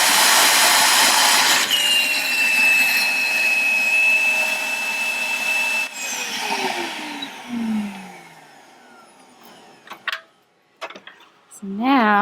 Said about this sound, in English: we're going to want to turn on the shop vac to create that suction